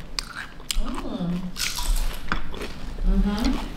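Close, wet biting and chewing of a crab and cream cheese snack, squishy mouth sounds in uneven bursts with faint murmured voices around them.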